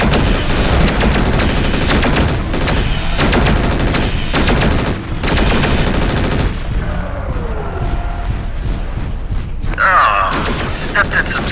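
Pulse lasers firing in the mech combat game Mechwarrior 4: Vengeance, loud rapid repeating bursts in clipped volleys, then quieter sweeping mechanical tones and a brief whine.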